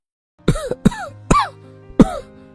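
Four harsh, wet coughs in a row, close and loud, with short gaps between them and no talking.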